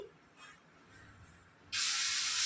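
Bottle gourd and lentil adai batter hits a hot dosa pan with a sudden loud, bright sizzle that bursts in partway through and holds steady after a quiet stretch.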